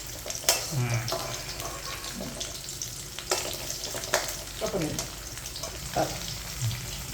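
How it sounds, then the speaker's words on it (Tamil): Bitter gourd sautés in hot oil in a pan, a steady, fairly quiet sizzle broken by occasional stirring scrapes and knocks, with faint voice in the background. "நம்ம போட்டு நல்லா பொரிய விட்டுட்டு அப்புறம் பாக்காயும் நல்லா எண்ணெயிலே வதக்கணும்"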